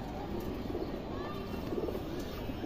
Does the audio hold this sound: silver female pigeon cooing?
yes